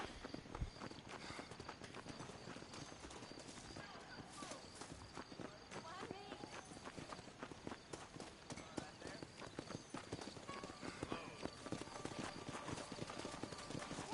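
Rapid, continuous horse hoofbeats clatter in a steady galloping rhythm in the video game Red Dead Redemption, with a voice talking over them throughout.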